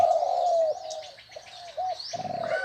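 A dove gives soft, repeated cooing calls close by, a few low hollow notes in a short sequence with no talking.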